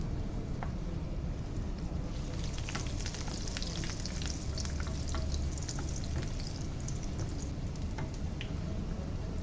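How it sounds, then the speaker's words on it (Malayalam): A bread-based snack frying in hot oil, with a steady dense sizzle and crackle throughout, close by, with no talking. "സൈഡൊക്കെ ഒന്ന് ഡിപ്പാക്കണേ ഓയിലിൽ."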